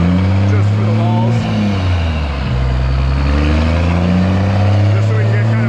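A turbocharged truck engine strains through a dyno pull, a loud, close, sustained roar whose pitch dips and climbs again as it loads up, continuous for several seconds.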